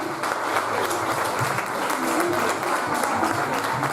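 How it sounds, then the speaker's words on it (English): Steady applause from an audience at a vegan chef championship cook-off, dense clapping sustained throughout, with crowd murmur and a few voices mixed underneath. "Round of applause, everyone."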